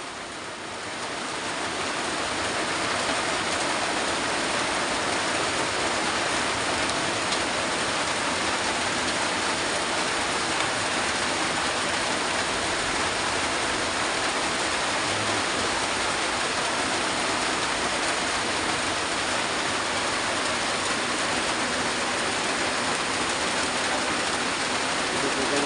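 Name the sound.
heavy rain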